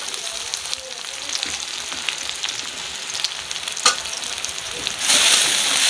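Garlic and onion fry in a hot pan with a steady close sizzle and occasional stirring scrapes, and the hiss swells louder near the end as more onion goes in.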